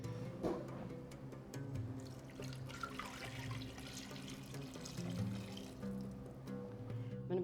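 Water is poured into a pot while Moroccan couscous with olive oil, salt and black pepper is prepared, giving a soft running trickle and splashing that sits at a faint level throughout, with a low hum underneath.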